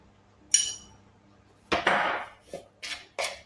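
A spoon stirs bread dough in a bowl, making sharp clinks against the bowl and then scraping, mixing knocks, with several separate taps near the end in an otherwise quiet kitchen.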